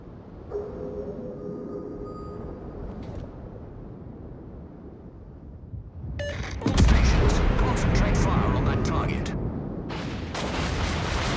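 Battleship artillery in a naval video game: quiet at first, then a heavy boom opens a loud, sustained roar of gunfire that continues to the end, with a voice speaking over the quieter opening.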